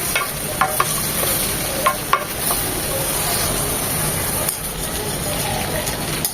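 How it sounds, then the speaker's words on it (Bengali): Eggplant frying in a pan with a little salt, a steady sizzle with a few sharp clicks of stirring against the pan while someone talks over it throughout. "সামান্য একটু লবণ দিয়ে দেবো বেগুনে আর কিছুই না খুব বেশি কড়া করে ভাজবো না জাস্ট মিনিট দিয়ে ভেজে নেব"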